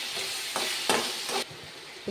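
Onions and finely chopped tomatoes fry in a pan for a South Indian raw banana curry, giving a close, steady sizzle broken by a few quick stirring scrapes, with no voices.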